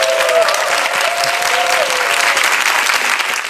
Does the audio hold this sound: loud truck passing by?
no